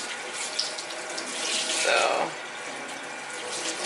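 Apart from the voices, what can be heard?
water running from tap to rinse out hair dye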